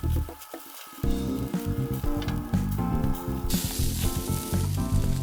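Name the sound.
ground lamb kebab sizzling on grill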